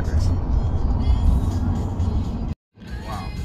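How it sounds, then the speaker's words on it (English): Steady traffic rumble of cars slowing and halting on a highway in Iceland's Reykjanes area, near and continuous, with a brief silent cut near the end before the engine hum resumes. "So all these cars are just stopping on the highway"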